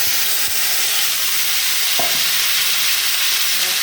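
Boiled potatoes frying in mustard oil with fenugreek seeds, a steady broad sizzle filling the pan throughout, with a couple of soft stirring knocks and no voices.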